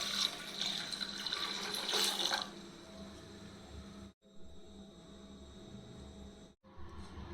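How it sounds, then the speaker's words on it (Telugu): Water poured into a pot of rasam with tomato pieces, curry leaves and coriander, a steady close splashing stream that stops with brief gaps of near silence before resuming. "తగినన్ని నీళ్లు పోసుకోవాలి"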